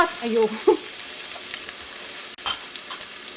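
Garlic fries in hot oil with a soft, sparse sizzle, a couple of brief stirring clinks early on and a sharp tap midway, otherwise fairly quiet and close.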